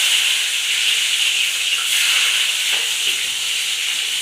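Onions and tomatoes sizzling in a hot pan, a loud, steady, close hiss that runs unbroken throughout with no talking.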